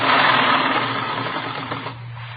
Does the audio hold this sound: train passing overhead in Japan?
no